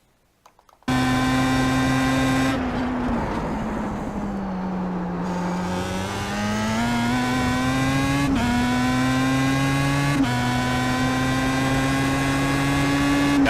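A Pro Mazda race car engine at Suzuka in a racing video game holds a loud, sustained high-rpm drone, pitch dipping and climbing through the corner with sharp gear-shift steps.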